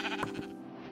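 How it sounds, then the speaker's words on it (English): A baby sheep in Minecraft gives one short bleat, close and clear over a steady background hum. "there's a baby sheep."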